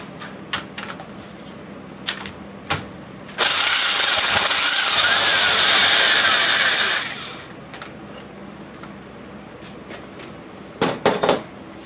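An impact wrench with a 22mm socket on a 1990 Toyota Camry strut fires a loud, continuous rattling hammer burst for about four seconds, framed by sharp tool clanks and clicks nearby.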